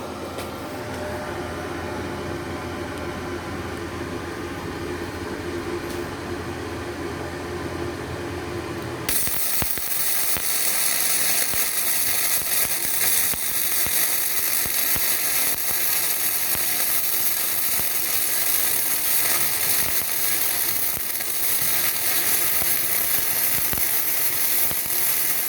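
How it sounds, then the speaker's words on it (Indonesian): An SNY 140 arc welding machine laying a continuous weld: a low mechanical hum first, then a sudden switch to a dense, steady crackling buzz that carries on evenly to the end, loud and close, with no talking. "Kita coba untuk las kontinu."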